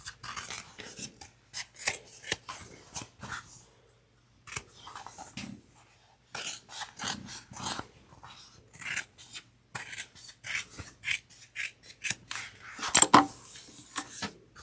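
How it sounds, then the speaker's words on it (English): Quiet, close snipping of scissors trimming a sewn fabric seam allowance down to an eighth of an inch, coming in irregular short bursts of crisp cuts with brief pauses between them. "now we're going to trim down to 1/8 of an inch"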